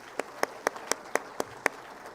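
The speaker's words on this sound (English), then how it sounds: "So another round of applause for our FTAs." Rhythmic, sparse clapping at a robotics competition championship, seven or eight sharp, evenly spaced claps in a room, fairly near and alone over quiet background.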